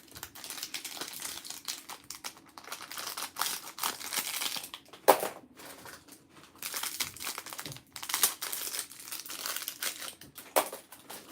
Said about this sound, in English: Honestly, I probably need a better pair of scissors too.